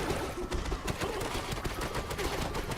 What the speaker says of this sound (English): Okay, so that's where the explosion needed to be.